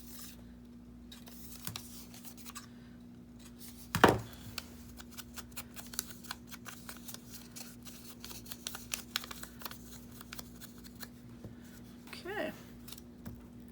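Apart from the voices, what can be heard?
scissors trimming paper for journal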